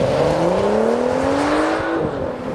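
A 2012 BMW 335 with an 8-speed automatic launches and accelerates hard, its engine loud and close as the revs climb steadily and smoothly until a quick upshift near the end.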